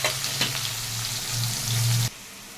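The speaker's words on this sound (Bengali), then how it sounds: "পেঁয়াজটাকে আমি ভেজে নেব।" Chopped onion frying in hot oil with dry red chillies, bay leaves and cumin, a loud close sizzle with a faint low hum under it, cutting off abruptly near the end.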